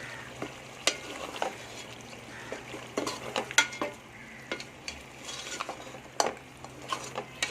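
Mutton stirred into softened, cooked tomatoes in a pot, steady scraping strokes of a spoon over a constant low sizzle, close and moderately loud with no talk.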